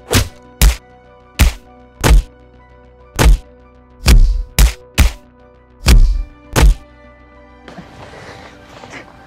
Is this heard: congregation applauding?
no